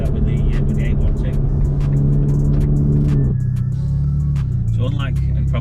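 A Ferrari V8 with no exhaust baffles idles and hums in a steady, loud drone, then the revs dip and settle to a lower rumble partway through, with a person talking over the engine.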